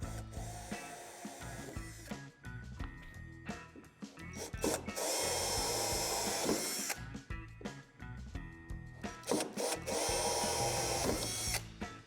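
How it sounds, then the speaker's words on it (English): A power drill whines in repeated bursts, grinding loudly as it bores through a metal tube in a storage shed door, with short pauses between runs. "drill them out with the provided drill bit"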